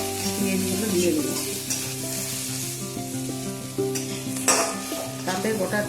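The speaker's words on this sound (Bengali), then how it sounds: "ওই তেলে আমি পাঁচফোড়ন আর পেঁয়াজগুলো দিয়ে দেবো।" Panch phoron and onions fry in hot oil with a loud, close, bubbling sizzle, a tonal hum underneath and a few spoon scrapes as they are stirred, for a traditional Bengali rui fish kaliya.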